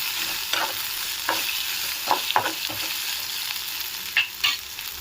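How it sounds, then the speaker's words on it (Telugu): Ginger and dried red chillies frying in a pan, a steady sizzle with occasional spatula stirs and scrapes breaking through, close and moderately quiet with no talk. "ఈ గిన్నె నిండా తీసుకున్నాను చిన్న బౌల్కి అల్లం. ఇవి కూడా కొంచెం వేగనిద్దాము."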